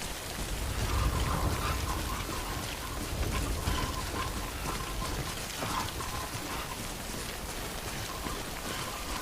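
Steady, dense rain in the video game Death Stranding hisses evenly throughout, a constant wash of falling water with no voices.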